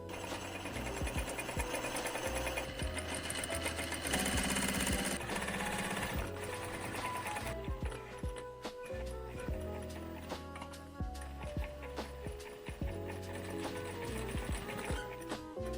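A sewing machine stitches thick thread through selvedge denim jeans with a steady, loud, rapid mechanical whirr and clatter, running continuously and close up with no talking.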